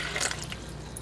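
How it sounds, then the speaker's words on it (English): Cold tap water runs steadily into a bowl while sea moss is soaked for gel, giving a close, even splashing hiss for about a second with no speech. "Turn the cold water on."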